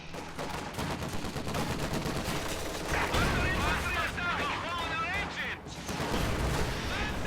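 Panzerfaust rounds fired at an M3 halftrack in a World War II strategy game: a dense barrage of gunfire and explosions rumbling continuously, with sharp bursts clustered in the middle and again near the end, all loud and busy.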